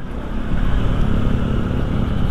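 A Honda ADV 160 scooter engine runs steadily while riding, a continuous droning hum with rushing road and wind noise, close and fairly loud with no clear rise or fall.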